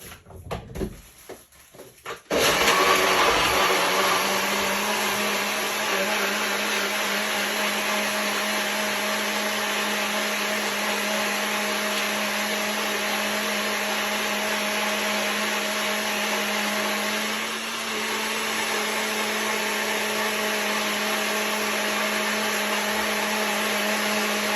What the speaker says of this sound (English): we're going to blend up this and make some noise.